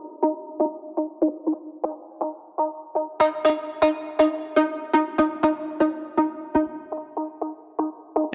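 Bright melodic techno synth pluck lead plays a steady, rhythmic run of short notes, alone and loud, with filter-cutoff automation opening the tone up midway through the phrase.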